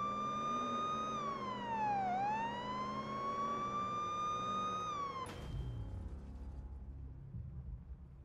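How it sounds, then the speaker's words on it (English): A wailing police siren sweeps up and down in steady, close tones for several seconds, then cuts off abruptly into a low rumbling engine noise, in the video game Police Simulator: Patrol Officers. "turn on the lights and sirens."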